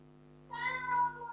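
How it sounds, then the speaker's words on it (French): A domestic cat lets out a single short, fairly clear meow after a brief quiet hum. "mon chat qui miaule"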